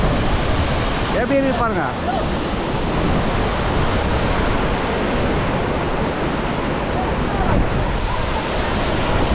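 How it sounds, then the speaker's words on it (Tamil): Hebbe Falls waterfall in Chikmagalur during the monsoon, a loud, steady broadband roar of rushing water that fills the whole clip, with a person briefly talking over it near the start. "ஸோ இதுதான் பார்த்தீங்கன்னா ஹெப்பே ஃபால்ஸ்"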